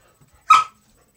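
A single short, loud dog bark, close by and clear, with a quiet room around it and no talk.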